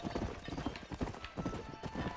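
Horse hooves clip-clop at a steady trot while cows are herded in the video game Red Dead Redemption, quiet rhythmic hoofbeats continuing throughout.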